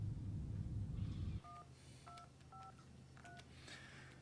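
A telephone number is dialed: a series of short, distinct touch-tone beeps at an uneven rhythm after a burst of low rumbling, quiet and close with no talking.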